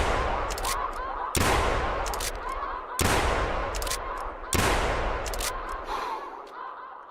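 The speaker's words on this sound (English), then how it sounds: "I guess I'm just gonna have to shoot and hopefully get lucky." Four loud hunting-rifle shots in theHunter Classic during a snow goose hunt, evenly spaced about a second and a half apart, each a sharp close crack with a long rolling echo that fades into the open air.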